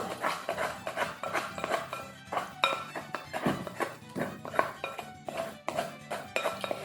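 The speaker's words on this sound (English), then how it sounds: "Just scraping off my hands briefly, and then scraping off the sides of the bowl." A dough scraper works soft pretzel dough off the sides of a bowl, making a close run of rhythmic scraping strokes and light knocks with no talking.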